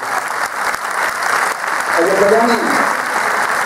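Concert audience applauding in memory of a late singer-songwriter, sustained clapping from a crowd with someone speaking over it, briefly rising in the middle.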